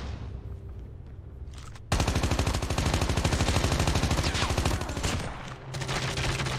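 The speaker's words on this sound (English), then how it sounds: "There's a lot of shots over this way." Gunfire in the Call of Duty Mobile video game: a faint rumble of shots first, then a loud, sustained automatic burst of rapid, evenly spaced shots that runs for several seconds.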